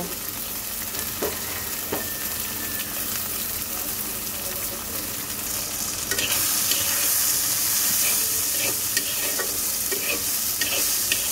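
Chopped onion and green chillies frying in oil for a tengra fish dopeyaja, a continuous close sizzle that grows louder partway through, with occasional spoon stirs and scrapes.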